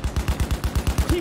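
Fast, rhythmic automatic gunfire from a video game, around ten evenly spaced thumping shots in just over a second, loud and close with a booming low end.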